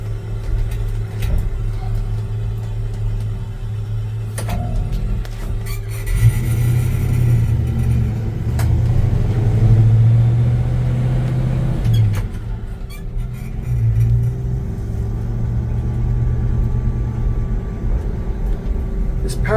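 A 1966 Chevy C10 pickup with power steering cruises along a road, its engine giving a steady low rumble with mild swells of throttle and faint road and wind noise throughout.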